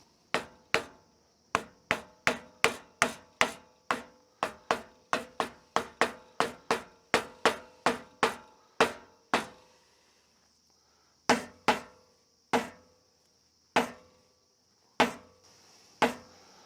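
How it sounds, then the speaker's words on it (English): A soft face hammer taps a new bearing cap into place on a 1973 Larson boat with a Mercruiser 120hp engine, giving sharp, evenly spaced blows in a quick run, then a few slower taps after a pause. "We'll go ahead and install our brandy new bearing cap, and I use a soft face hammer when I install these."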